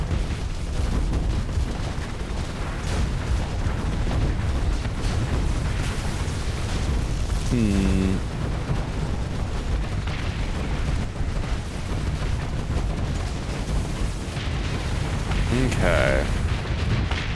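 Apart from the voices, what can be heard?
many things exploding in a video game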